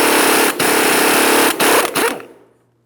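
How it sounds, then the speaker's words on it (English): Pneumatic impact tool removing the front axle nut on a 2003-2008 Toyota Matrix, a loud sustained whir broken by short pauses, then a final burst that winds down to silence. "If you're using an air tool, typically it will come off fairly easily."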